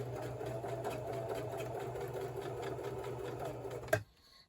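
A sewing machine runs steadily while stitching an armoured hoodie, a continuous close mechanical whir with a rapid needle patter that stops abruptly near the end, leaving faint quiet.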